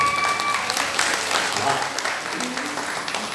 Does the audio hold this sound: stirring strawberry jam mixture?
no